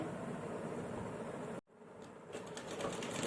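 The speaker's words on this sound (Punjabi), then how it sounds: "ਇੱਥੋਂ ਸਲਾਈ ਸ਼ੁਰੂ ਕਰਨੀ ਹੈ ਜੀ" A sewing machine stitching a sleeve cuff whirs steadily and closely, stops abruptly for a moment midway, then restarts with a rattling, slightly louder run.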